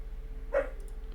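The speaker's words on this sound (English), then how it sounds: "If you hear Mochi barking, it's because he doesn't realize it's Cal." A single short dog bark, faint and somewhat distant, stands out once over a low steady hum.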